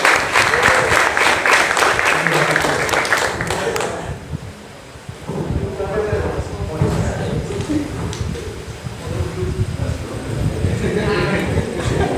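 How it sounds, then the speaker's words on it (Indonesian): An audience at a vocational school event in Purworejo claps loudly for several seconds, the applause fading out and then resuming later with talk in between. "Tepuk tangan untuk Mas Ibu"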